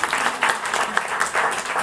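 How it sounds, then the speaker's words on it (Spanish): An audience breaks into steady applause at a community photo walk gathering in Carballo, Galicia, with dense, continuous clapping from a sizable crowd heard at moderate distance. "aplauso"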